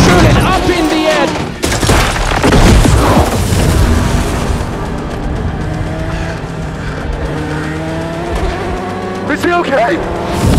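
Racing game crash as a Ferrari in Gran Turismo gets hit and flips into the air: engine roar, loud impacts and screeching under excited talk, with commentary continuing over engines.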